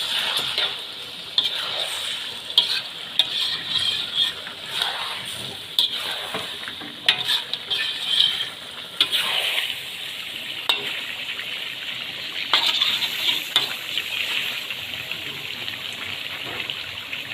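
Chicken karahi with ground red chili is stirred in a pan while it sizzles and fries, with repeated scraping stirs and a steady hiss close by.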